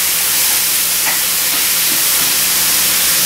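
Lean ground beef frying dry in a hot pan over a high flame gives a loud, steady steamy hiss that carries throughout, with a few soft clicks and pops under the sizzle and no voices.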